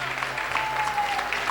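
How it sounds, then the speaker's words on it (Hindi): Enthusiastic audience applause at a motivational business event, dense continuous clapping filling a large room, short and fairly loud with crowd noise behind it. "एक बार जोरदार तालियां होनी चाहिए दोस्त, जोरदार।"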